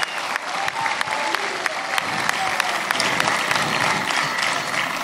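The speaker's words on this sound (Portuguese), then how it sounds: "Uma salva de palmas aqui para o Cota," An audience applauds a singer at a year-end special show, with steady dense clapping that holds for the whole stretch and sharp individual claps standing out from the crowd.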